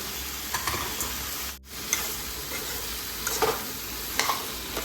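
Vegetables fry with spices in a pan over a low flame, a steady soft sizzle broken by occasional scraping stirs and a brief pause, with nobody speaking.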